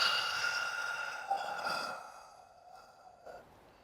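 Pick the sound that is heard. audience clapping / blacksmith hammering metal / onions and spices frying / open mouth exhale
open mouth exhale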